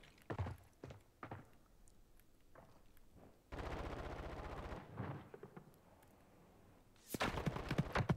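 Bursts of automatic gunfire in Call of Duty, a sustained rattling volley in the middle and another loud burst at the end, with scattered single shots and thuds in between.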